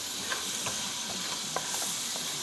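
Garlic powder sizzles in a hot pan with cream sauce and chicken while it is stirred constantly, a steady bright hiss broken by a few soft scraping strokes, close and alone.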